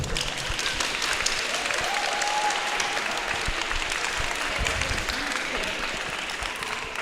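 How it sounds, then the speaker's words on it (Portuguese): An audience at a Spiritist lecture applauds, a thick continuous roar of many hands clapping at a steady level, with faint voices murmuring underneath. "Ele quer palmas, gente."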